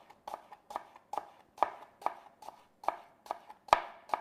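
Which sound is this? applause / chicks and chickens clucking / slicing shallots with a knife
slicing shallots with a knife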